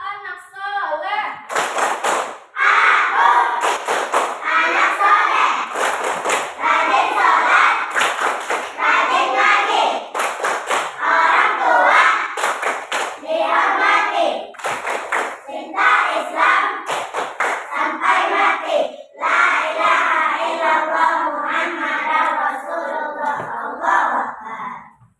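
Children in a classroom chant and clap together in a rhythmic 'Tepuk anak soleh' routine, loud and close, with sharp clap bursts punctuating steady group voices throughout.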